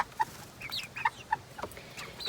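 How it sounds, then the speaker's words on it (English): A rooster clucks in short, scattered bursts mixed with a few higher peeping calls, fairly soft and close, with no one talking. "So I think this is our rooster right there."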